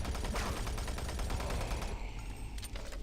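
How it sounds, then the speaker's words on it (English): Shotgun blasts in the video game Doom 3, heavy booming shots amid dense, continuous combat noise, fairly loud and steady throughout with no talk. "I don't like this game's shotgun."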